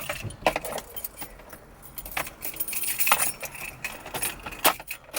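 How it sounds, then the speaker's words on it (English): Car keys jangle and clink in short bursts while being handled inside a vehicle during a car audio install, with several sharp metallic rattles close to the microphone and no talk. "grab your keys"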